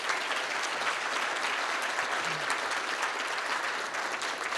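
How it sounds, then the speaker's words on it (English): A conference audience at an economic summit gives a panel a sustained round of applause, dense even clapping from many people that holds at a steady level from start to finish. "May I ask you to join me in a round of applause for this amazing panel?"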